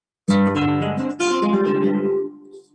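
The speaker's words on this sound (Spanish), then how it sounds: "Todos y cada uno de ellos se acompañan por un toque de guitarra que se llama toque por taranta" Two strummed flamenco guitar chords in the taranta style ring out in quick succession, bright and close, the second decaying gradually with no talking.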